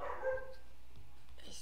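A small, agitated dog barks and yips briefly at the start, fairly close and indoors, then fades into quiet room tone with a faint word of speech.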